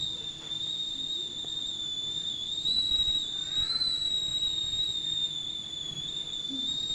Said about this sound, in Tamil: இப்போ வந்து விசில் வந்து வந்துருச்சு.